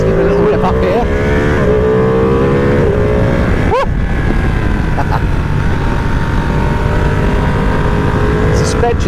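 A 2020 Ducati Panigale V2 accelerates hard uphill on a hill-climb road, its engine loud and close with rising revs, a sharp sweep near the middle and constant wind roar throughout.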